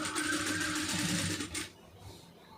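A sewing machine stitches fabric piping in a fast, steady mechanical whir for about a second and a half, then stops and leaves a quiet room.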